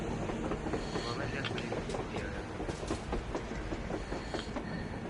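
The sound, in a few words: train passing in a video game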